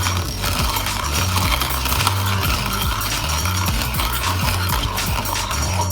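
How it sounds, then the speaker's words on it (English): Coffee beans being ground in a Hario burr hand grinder with a canister mill: a steady, dense mechanical crunching and grating that continues without a break, close and fairly loud, with no talking. "Make sure you just grind all the beans."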